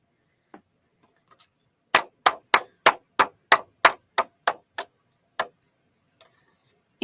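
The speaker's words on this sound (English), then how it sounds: "But I just tap my excess off into" Crafting powder is tapped off into a tray: a run of about a dozen sharp, close knocks at a quick, even rhythm, with a few scattered lighter taps before and after in an otherwise quiet room.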